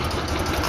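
A 1969 BMW R60US motorcycle engine with fresh spark plugs, new oil and rebuilt carburetors idles steadily, a continuous close rumble with no voices.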